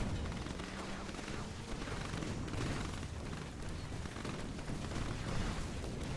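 Units in C&C 3: Tiberium Wars open fire on a small defensive structure, a steady rattle of overlapping gunfire and blasts that runs without pause, moderately loud and dense throughout.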